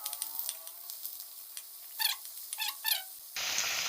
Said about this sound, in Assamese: এতিয়াও হৈছে আলুখিনি ফ্ৰাই